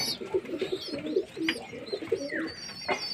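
Pigeons cooing while being fed grain, a run of soft, throaty coos repeating close by, with fluttering and faint chirps mixed in.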